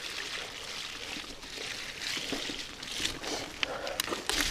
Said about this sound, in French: je le savais bien qu'il allait y avoir un petit ruisseau